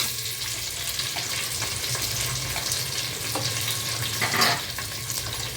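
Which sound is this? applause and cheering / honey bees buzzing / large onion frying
large onion frying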